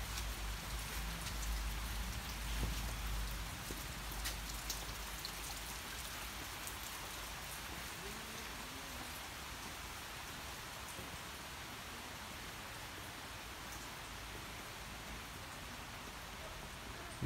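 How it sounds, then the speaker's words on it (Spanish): Steady rain pours down across open ground, a constant dense hiss of drops with no voices, holding evenly throughout. "Así está el campo hoy. Así lo tenemos. Mucha lluvia."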